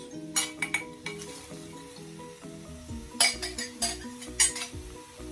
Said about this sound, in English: Now I'm gonna add my mixed vegetables.